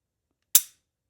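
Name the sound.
Superior aftermarket Glock trigger breaking with a click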